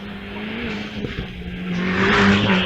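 A silver Audi race car climbs the Wiscombe Park hillclimb, its engine note droning near and loud, tyres squealing as it works through a corner, the sound swelling toward the end as it passes.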